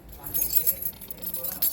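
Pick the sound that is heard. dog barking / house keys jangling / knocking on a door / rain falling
house keys jangling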